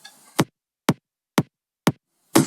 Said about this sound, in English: And then the top kick sounds like this.